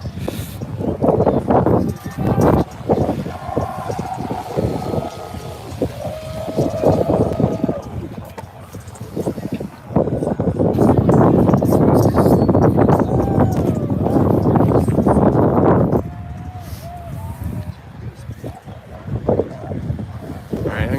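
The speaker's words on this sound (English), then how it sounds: "Get out of the wind a little bit." Strong wind gusts buffet the microphone outdoors at a protest, swelling into long roaring stretches with muffled voices and background activity underneath.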